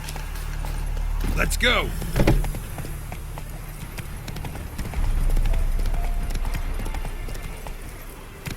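Hooves of the horse Roach trotting in The Witcher 3, a rhythmic clip-clop that runs steadily through the scene, with a whinny early on and brief spoken lines over the hoofbeats.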